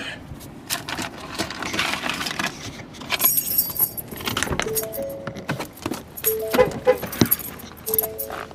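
Keys jangle in short metallic bursts near a car park at work, with soft footsteps and a few brief bright clinks, fairly close and moderately quiet.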